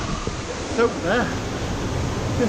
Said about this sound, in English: It's obviously Rhaeadr Dyserth waterfall